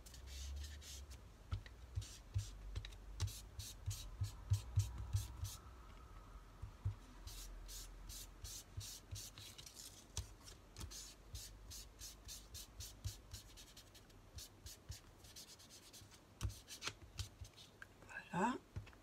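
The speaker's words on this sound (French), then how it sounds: "J'ancre ma carte en gris." Soft, steady rubbing and scuffing of grey ink being applied to the edges of a paper card, a quiet close-up swishing that continues in short strokes for the whole stretch.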